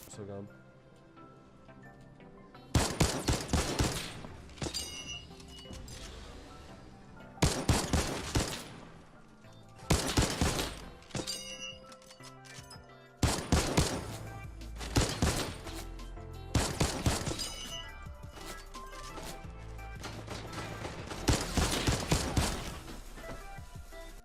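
Bursts of Infantry Rifle gunfire in the video game Fortnite, several loud volleys of rapid shots separated by short pauses, with a continuous voice talking underneath throughout.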